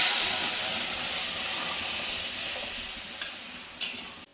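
Black mustard seeds, dried red chilli and dal sizzle and hiss steadily in hot oil in a pan, loud and close, with two brief sharper spits near the end.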